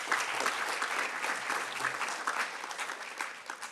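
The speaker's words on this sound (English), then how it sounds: "Let's give those youth a round of applause" Sustained audience applause at a community foundation's annual meeting, a steady dense patter of many hands clapping with no voices over it.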